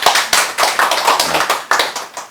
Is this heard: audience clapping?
yes